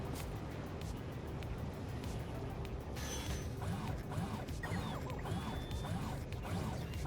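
Faint mechanical clanks, creaks and ratcheting sound from train unloading machinery in the Factorio video game, played with the Pyanodon's mod. The clatter is steady and overlapping, with a few sharper knocks.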